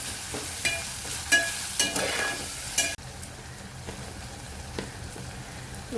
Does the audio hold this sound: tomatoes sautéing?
yes